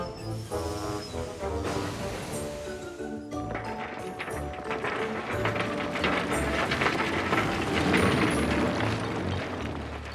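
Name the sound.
cartoon engine departing with wagons full of coal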